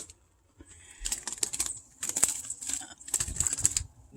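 A stunned pine siskin flutters and flaps its small wings in quick, soft bursts before flying away, the rustling flurries close and repeated in several clusters.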